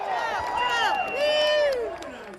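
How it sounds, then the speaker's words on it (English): A crowd cheers and whoops at a Donald Trump rally held in a field in Tallahassee, a steady, loud wash of voices with rising shouts that swell and hold throughout. "More crowds wait for him in a field in Tallahassee"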